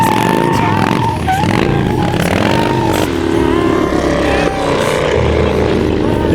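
Harley motorcycles skidding around on an Australian wheelie outing, engines roaring loud and near with rising and falling revs, while voices talk over the noise.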